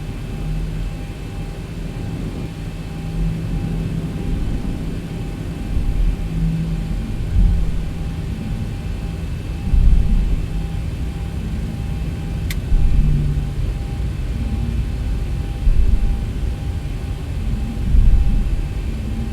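A Zibo 737-800 in the X-Plane flight simulator rolls down the runway for takeoff, a steady low jet engine rumble with rising swells and faint thumps as it accelerates, with no voices.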